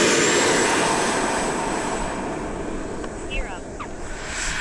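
An RC model jet, an F-16 with the same ducted fan and motor as the Avanti and Cougar, flies with a steady loud high whine and roar, with talk in the background.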